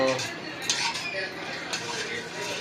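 A spoon scrapes and clinks steadily against a pot of banana stem soup, stirring continuously with close, busy kitchen clatter.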